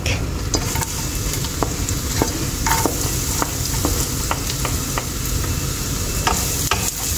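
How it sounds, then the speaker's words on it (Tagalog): Garlic frying in a pan for pancit canton, a steady sizzle under intermittent sharp clicks and scrapes of stirring, close and fairly loud, with no talking. "Okay, so now let's put the garlic."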